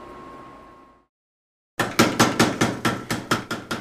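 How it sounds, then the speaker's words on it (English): Hammer blows forging a carbon steel blade for a Japanese yanagiba sashimi knife, ringing in a steady run of about ten sharp, loud strikes after a brief quiet hiss and silence. "I'm forging it to shape"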